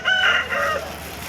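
A rooster at a busy chicken market in Pileru gives a single short, loud crow up close, rising then trailing off within about a second.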